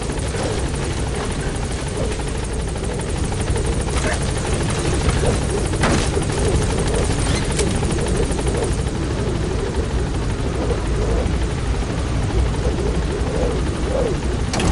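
A military helicopter in the Metal Gear Solid V video game sets down at a landing zone and holds there, its rotor producing a loud, continuous, close thumping roar that stays steady throughout.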